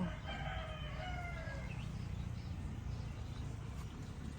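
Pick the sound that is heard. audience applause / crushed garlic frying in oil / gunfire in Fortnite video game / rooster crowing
rooster crowing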